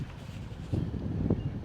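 Wind buffeting a microphone at a Grand Lake dock in Michigan, low rumbling gusts that swell and pound in short bursts over about two seconds.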